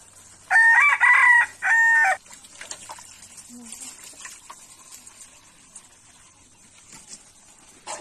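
Roosters crow loudly twice in quick succession near the start, then scattered hen clucks and yard noise continue faintly at a distance, with a voice murmuring briefly in the background.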